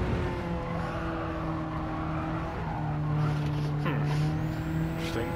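Ford Sierra Cosworth 500 engine in Gran Turismo 7 on a lap of the Nurburgring, a steady loud drone that holds and then climbs in pitch through shifts, alone with no voices.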